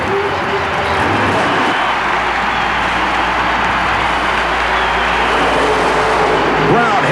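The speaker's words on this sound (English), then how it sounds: "This one, a nitrous oxide injected Jeep funny car." A nitrous oxide injected Jeep funny car on a mud racing run at Oklahoma City, a loud sustained engine roar that holds steady throughout as a commentator talks over it.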